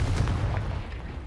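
Confringo fire-blast spell cast in Hogwarts Legacy, a heavy, booming blast with a deep rumbling low end that fades over about a second, with no speech.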